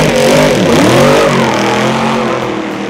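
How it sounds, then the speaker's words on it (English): A 1965 Shelby Daytona Coupe racing car revs hard, its loud, close engine note rising and then settling over about three seconds, with no voices. "It's a portrait about a legendary racing car from 1965, the Shelby Daytona Coupe."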